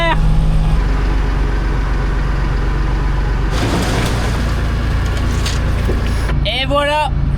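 A farm tractor engine, recently repaired but still faulty, roars loudly and steadily, then surges as it is pushed harder partway through, with brief voices over the rumble.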